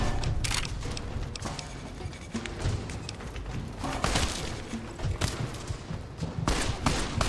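Gunfire in Fallout New Vegas crackles as a rapid, irregular series of shots and thuds, fairly loud and near, with a busy rumbling background throughout.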